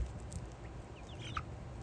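Faint chicken clucks and a few short calls over a steady low outdoor rumble, quiet and somewhat distant.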